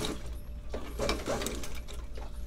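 A small motorized shoe stitching machine runs during an Allen Edmonds boot restoration, giving a steady, close mechanical whir with a fast, rhythmic clatter of gears and needle throughout.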